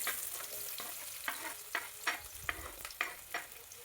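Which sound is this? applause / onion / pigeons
onion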